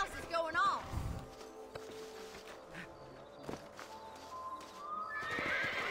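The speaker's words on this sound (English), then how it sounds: "Are you telling me I gotta get back on that damn horse again?" A horse in the video game Red Dead Redemption whinnies loudly near the start, followed by steady clip-clop hoofbeats and game ambience continuing underneath.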